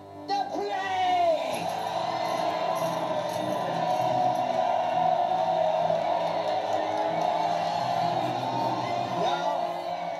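A crowd cheers and whoops in a sustained roar of voices, with scattered shouts rising above it and fading at the end.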